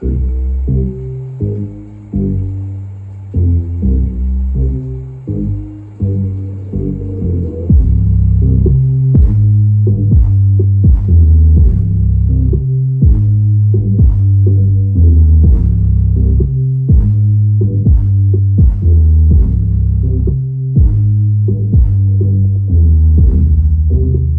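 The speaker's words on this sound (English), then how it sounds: "I've got some stuff rattling in here." Deep, throbbing bass pulses from Audiopipe 12-inch subwoofers dominate, with sharp rattles and buzzes from loose objects hitting along with the beat, growing louder partway through.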